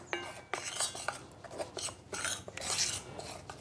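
Tapioca flour with a pinch of salt being stirred in a bowl, giving a continuous gritty scraping and rubbing with rhythmic strokes of a utensil against the bowl, close and moderately loud, with no talking.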